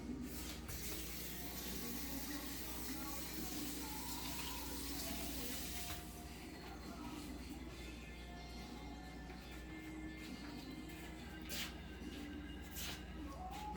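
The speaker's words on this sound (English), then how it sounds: "You rinse my hands off." Kitchen tap water runs steadily into a sink while hands are rinsed, a faint, even wash under some quiet handling noise.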